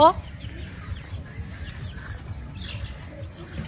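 Free-ranging chickens of a Darag flock cluck faintly in an enclosed netted ranging area, soft scattered calls over a low steady background hum.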